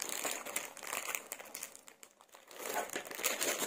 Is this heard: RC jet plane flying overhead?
no